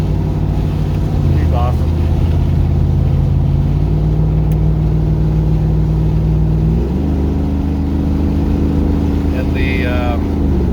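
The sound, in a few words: in-cabin noise of 1979 Ford Bronco with 6.2 LS engine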